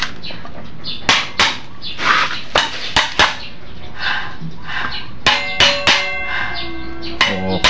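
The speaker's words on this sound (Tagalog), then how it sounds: "So, pukpukin natin, no?" Repeated metal hammer blows on a large industrial fan that won't spin, sharp ringing strikes in uneven bursts, loud and close, with clanging resonance and some background noise between hits.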